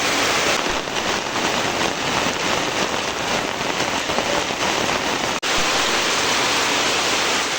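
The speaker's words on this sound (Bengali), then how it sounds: "অনেক বৃষ্টি হচ্ছে" Heavy rain pours down in a dense, constant hiss, loud and unbroken, with a single sharp click near the end.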